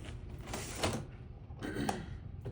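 A drawer in an x-ray room is opened to take out a positioning marker, giving two short sliding, rattling scrapes over a low steady room hum.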